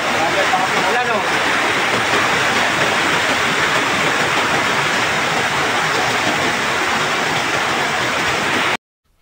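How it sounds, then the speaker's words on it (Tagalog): Heavy rain pours steadily outdoors in Barangay Villa Espina, a dense continuous hiss filling the scene close by for about nine seconds before cutting off abruptly. "Tinabot na ako ng ulan dito."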